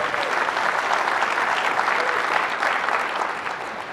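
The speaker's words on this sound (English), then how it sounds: "So everybody, a round of applause for John and his baby." A dense, steady wave of audience applause fills a tech conference hall at a product demo event, loud and sustained throughout before tapering slightly at the end.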